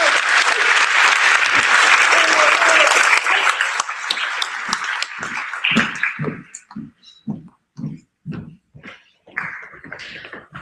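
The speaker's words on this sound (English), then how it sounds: "Let's have a round of applause for these ladies." An audience at a high school NJROTC change of command ceremony gives sustained, dense applause that thins out into scattered, separate claps near the end.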